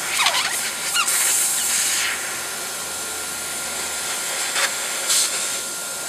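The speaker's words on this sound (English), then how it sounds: "we're going to bleed all that pressure out before you attempt to uh, unscrewed the valve assembly" Air pressure bleeding out of a Cricket airgun's valve assembly, a soft steady hiss with brief squealing spurts of escaping air, close and alone.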